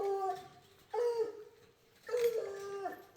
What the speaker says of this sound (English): He's barking at Sylvia.